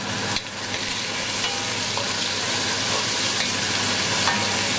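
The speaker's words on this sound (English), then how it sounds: "we're gonna give it a good stir yet again" Onion, garlic and tomato frying in a pot give a steady, close sizzle, with a few scraping stirs against the pot and no talk.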